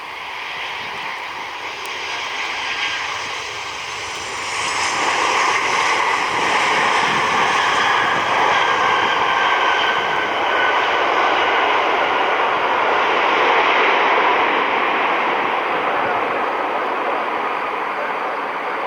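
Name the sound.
Icelandair jet airliner in National Geographic livery arriving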